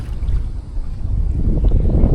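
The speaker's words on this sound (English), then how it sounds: "it is pretty windy out here" Wind buffeting the open water around a kayak, a Native Slayer Propel 10 LTE with a Bixpy K-1 motor switched off, heard as a low, rumbling rush of gusts and microphone wind noise that swells slightly toward the end, with no speech.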